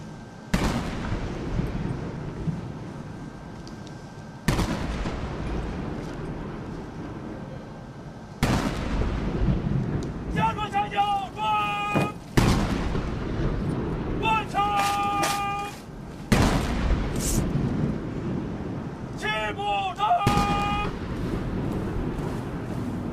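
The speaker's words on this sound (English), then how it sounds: "An 80-gun salute is fired to mark the 80 years since the victory of the War of Resistance." An 80-gun artillery salute fired at a large military parade in China marking 80 years since victory, with heavy booming blasts spaced several seconds apart, echoing widely, and a brass band playing between the shots.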